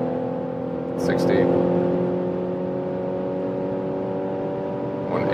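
Road and engine drone inside a Mazda CX-60 on 20-inch wheels cruising at very high motorway speed, a loud steady hum under continuous talk from the driver, swelling slightly mid-way.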